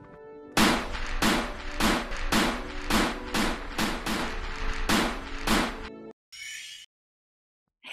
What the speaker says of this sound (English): Just point your gun in the direction of the target, let out a burst of gunfire,